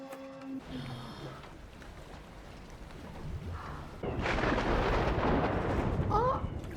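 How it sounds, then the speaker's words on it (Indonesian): Deep thunder rumbles on a stormy night, a low broadband roar that swells and grows louder in the second half, with faint voices and tonal sounds near the start. "Di luar petir mulai bergemuruh"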